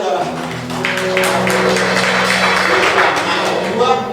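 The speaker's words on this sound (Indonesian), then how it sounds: "Berikan tepuk tangan untuk bagi saudara." Church congregation at a Sunday service applauding, the clapping swelling after a quiet start into a steady, moderately loud patter, with a sustained tone and some voices underneath.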